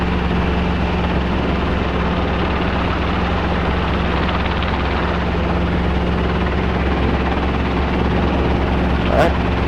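Robinson R22 helicopter hovering low during hover autorotation practice, a steady loud rotor and engine drone with a constant low hum running throughout, close and unbroken, with people talking over it.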